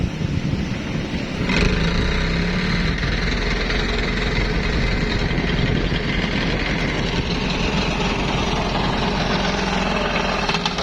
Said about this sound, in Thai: ฝั่งนี้สิบล้อถอยหินเข้ามาเทครับ